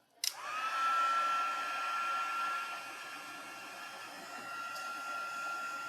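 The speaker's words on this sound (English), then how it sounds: "And we are going to heat emboss this." A heat tool blows steadily to melt gold embossing powder on a Christmas card, a continuous airy whir with a faint whine that starts abruptly after a click and runs close and loud to the end.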